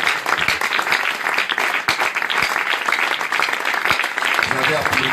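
Church congregation clapping and cheering for the king during worship, sustained loud applause with crowd voices woven through it.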